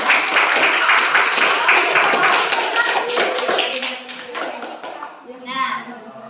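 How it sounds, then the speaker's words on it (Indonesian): A classroom of children clapping hands together, a steady busy patter of many palms that fades near the end as a teacher's voice comes in. "tepuk tangan dulu untuk"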